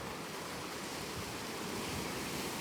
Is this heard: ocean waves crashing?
yes